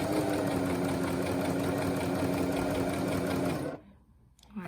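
A sewing machine stitching a curved seam in fabric runs with a steady fast mechanical whir, then stops suddenly and leaves near silence with a faint click.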